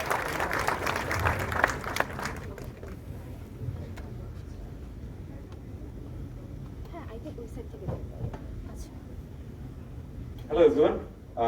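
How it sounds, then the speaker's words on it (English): Lecture-hall audience applauding a guest speaker at a research methodology talk, a dense wash of clapping for the first two seconds that fades into room noise, with a brief voice near the end. "Let's welcome him with a big round of applause."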